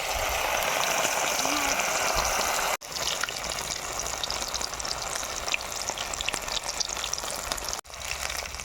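Chicken pieces frying slowly in hot oil in a home kitchen, a steady close sizzle and bubbling hiss throughout, briefly cut twice, with faint background voices.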